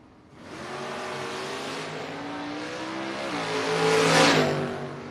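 At a drag race, a Blazer and a Monza roar down the strip, loud and close. The engine note rises and shifts as they accelerate, swelling toward a peak near the end.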